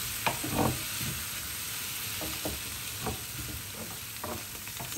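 Mushrooms and onion frying in a pan give a steady sizzle, broken by a few scraping stirs and clatters, close by with no talk.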